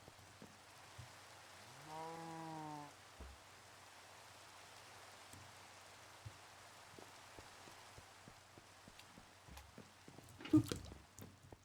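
Rain falls in the Minecraft game world, a faint, soft patter of drops under scattered game sounds, including a rising tonal effect early on and a sharper burst near the end.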